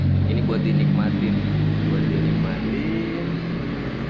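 An old motorcycle engine running at a calm, steady idle-like drone, with someone talking over it throughout.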